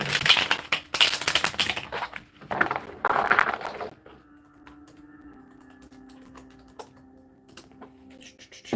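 Fast typing on a keyboard, rapid bursts of key clicks in short clusters for the first few seconds, then sparse taps over a quiet, faint background hum.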